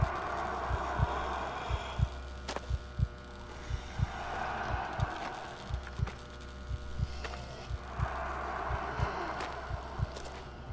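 A heartbeat in the horror video game Maid of Sker thumps steadily in low double pulses throughout, over a droning hum and swells of ambient breath-like noise.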